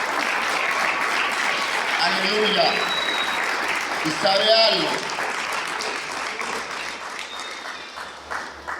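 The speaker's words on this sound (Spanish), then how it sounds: "¿Habrá alguien que le pueda dar un fuerte aplauso al Espíritu de Dios?" A church congregation applauds steadily, a dense wash of clapping throughout, while a preacher's voice speaks over it.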